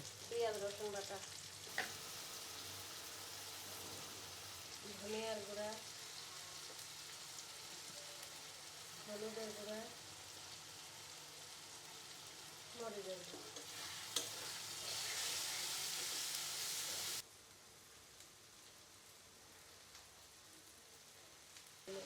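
A katla fish head fries in a pan, a steady oily sizzle broken by short bursts of voice, swelling to a louder crackle near the end before dropping to a quieter simmer.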